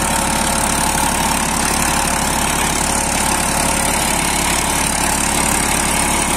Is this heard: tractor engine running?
yes